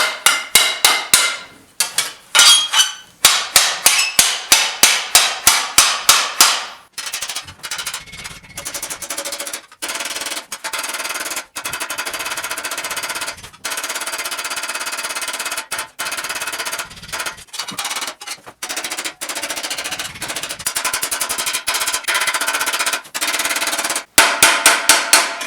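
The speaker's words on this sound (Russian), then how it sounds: "Подбиваем как бы на весу, то есть мы не опираем ни на какую приспособу" A metal bracer blank held in the air, its corners struck with a hammer: bursts of rapid, loud, ringing blows close up, followed by long runs of fast continuous hammering with brief pauses.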